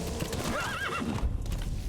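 Horse hooves clip-clopping in Metal Gear Solid V: The Phantom Pain, a steady loud gallop with a whinny partway through, backed by a light drum beat from the game's music.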